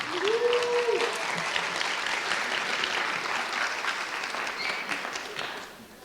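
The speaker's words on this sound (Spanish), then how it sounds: "vamos a darle un fuerte aplauso" Sustained audience applause at a social work conference, a dense wash of clapping from a large crowd that carries on for several seconds before fading out, with a voice briefly heard at the start.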